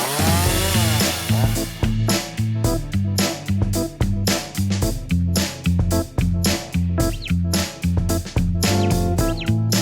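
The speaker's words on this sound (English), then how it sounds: "I'm literally going to chainsaw a path right through these trees" Chainsaw cutting through trees, its engine loud and close, revving in a repeated pulsing rhythm as the chain bites into wood, with no talk.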